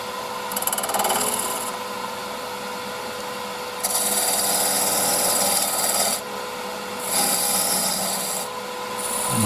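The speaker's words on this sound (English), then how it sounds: "I've gone to a round nose scraper to try and clean up the outside edge of the goblet" A round nose scraper cleans up the outside edge of a spinning wooden goblet, giving repeated rasping, scratchy passes that start and stop over a constant lathe hum, close and fairly loud.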